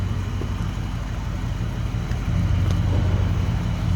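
The 283 V8 in a 1964 Chevrolet Chevelle Malibu convertible idles with a low, steady, throaty exhaust rumble that swells slightly partway through, close by and continuous.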